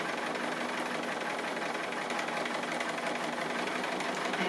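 Sewing machine stitching around a small pine tree applique on fabric, a steady continuous motor hum with rapid needle rhythm running unbroken and fairly loud throughout, with no talk.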